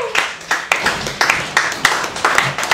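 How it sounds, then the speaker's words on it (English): An open mic comedy crowd at a Halloween show claps for the next comic, steady rapid handclaps from a small audience, close and fairly loud with no voices over it. "Let's have a big round of applause for our next comic, Britney Ledesma"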